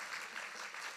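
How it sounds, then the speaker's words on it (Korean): A congregation at a Sunday church service applauds to welcome a newly registered member, a steady, dense wash of many hands clapping at once that holds evenly through the moment. "임성숙 성도님 박수로 환영해 주시기를 바랍니다"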